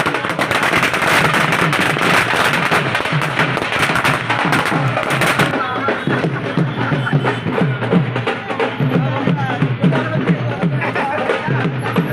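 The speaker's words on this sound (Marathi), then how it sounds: "फटाक्यांची आतिषबाजी करत जंगी स्वागत करण्यात आले" Firecrackers pop and crackle in a dense, continuous barrage at a welcome celebration for a politician in Nagpur, loud and close, thinning slightly into scattered bangs toward the end.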